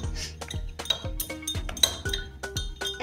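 A spoon clinks rhythmically against a glass while stirring dye into water for a color-changing flower experiment, producing quick ringing taps close up, roughly two per second.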